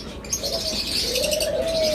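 Caged pet birds such as lovebirds, cockatiels and budgerigars chirp and call close by, with a thin rising whistle-like note over a busy, chattering background.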